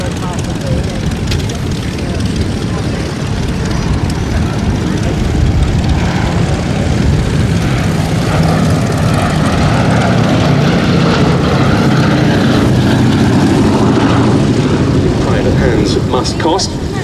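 B-17G Flying Fortress, a four-engine propeller bomber, flying at the Duxford air show: a loud, steady engine drone with broadband roar that swells toward the end, and a voice commenting throughout over it.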